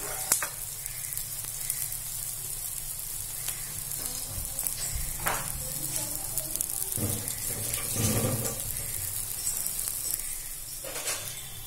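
A ragi and vadha narayanan keerai adai fries in oil on a pan over a medium flame, giving a steady, close sizzle with faint scraping and stirring noises throughout.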